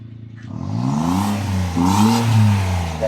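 A Suzuki DA64W with a street exhaust pipe revs hard during a power slide, the engine rising and falling in two loud surges close by.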